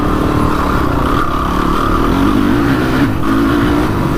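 A Honda TRX450 ATV engine runs loud and close, its rough motor note held high and steady with no bogging.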